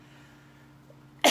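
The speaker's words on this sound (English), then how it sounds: "I just got a cough." A single harsh cough bursts out loud and close at the very end, after a stretch of quiet room tone with no talking.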